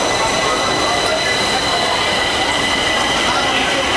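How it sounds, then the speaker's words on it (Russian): A Stockholm metro train pulls in at a multi-level platform, a loud, steady rumbling roar of wheels on rails with a high metallic whine above it, close by throughout. "Вот состав подается, возможно, что он даже наш."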